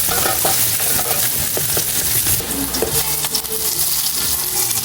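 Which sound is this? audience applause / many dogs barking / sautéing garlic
sautéing garlic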